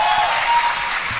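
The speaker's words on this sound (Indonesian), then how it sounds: "Tepuk tangan." Audience applause during an Islamic religious talk, a brief steady wash of clapping heard from a distance.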